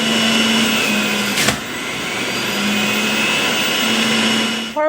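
A juicer runs continuously while processing leafy greens, giving a loud, steady motor whine with a faint pitch wobble and a short louder surge near the middle.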